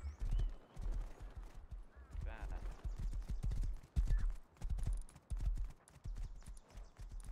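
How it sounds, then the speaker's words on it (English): Horse hooves clip-clop steadily in the survival game Rust, a continuous rhythmic trot with a brief whinny partway through and occasional faint distant gunfire. "It's my horse, bro."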